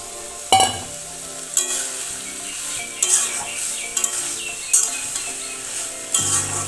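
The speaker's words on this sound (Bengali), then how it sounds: "এবার ভালো করে নাড়াচাড়া দিয়ে কিছুক্ষণ ভেজে রাখবো" Taro leaves and fried lentil fritters frying in a pan, with a steady sizzle broken by several distinct scraping stirs and clinks of a spatula against the pan, close and clear.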